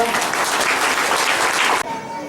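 An audience at a Sant Ravidas Jayanti gathering claps loudly and steadily, a dense wash of applause that stops abruptly near the end.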